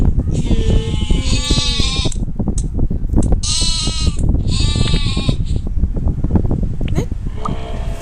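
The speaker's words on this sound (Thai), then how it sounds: "นี่แกะขาว" White sheep in a video game bleat repeatedly in loud, close, wavering cries, several in quick succession with short gaps, over steady background noise.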